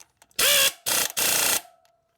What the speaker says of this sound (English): That's just a nut stripping.